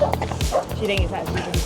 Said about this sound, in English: What can you do about dogs, eh?